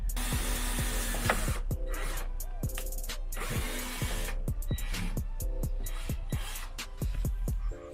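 A power drill whirs steadily at close range, its pitch wavering as it bites into the metal front lip of a Honda Civic EP3 Type R, with a few clicks and knocks in between.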